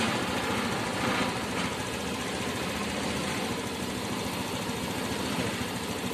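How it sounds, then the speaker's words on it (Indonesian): A Honda motorcycle engine idling steadily at about 1500 RPM, a constant even rumble close by with no one speaking. "Kalau sudah diketahui sekitar putaran RPM-nya 1500, kita matikan."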